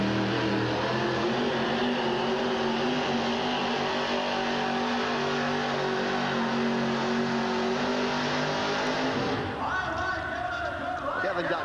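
A monster truck's 500 cubic inch Ford engine, paired with an automatic transmission, rumbles in a loud steady drone at a 1989 truck pull. The roar then shifts and drops off near the end, with crowd noise and talk mixed underneath.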